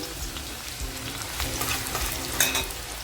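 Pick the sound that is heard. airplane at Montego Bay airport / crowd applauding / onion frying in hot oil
onion frying in hot oil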